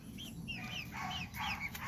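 Hens and chicks in and around a backyard chicken coop give soft clucks and short chirping calls, several overlapping notes against a steady outdoor background hiss, fairly close and moderate in level.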